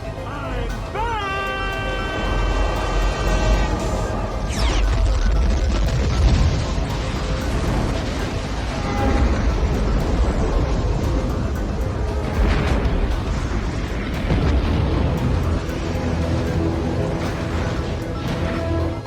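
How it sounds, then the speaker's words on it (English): An alien spacecraft explodes in the 1996 science fiction action film Independence Day. A loud, dense blast with deep rumble fills the scene, mixed with other film sound under a continuous voice. "With a violent explosion,"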